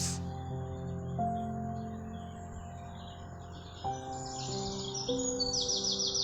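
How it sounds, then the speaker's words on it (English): Pet lovebirds give high, thin chirps late in the passage, faint beneath a sustained musical backing with stepped tones. "Here we have Vimal, Tara, and Bluey, who saved the entire lovebird family."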